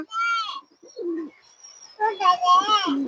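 Pigeons coo in a series of low, rounded calls at close range, with a few thin chirps mixed in and short pauses between the calls.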